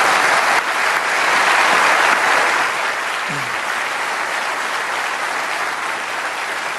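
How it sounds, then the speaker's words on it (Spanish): Sustained audience applause fills a hall at a Spanish-language church conference session honoring Hispanic ministry volunteers, dense and steady throughout, loudest early then easing slightly, with no talk over it. "Y para eso sí pueden aplaudir."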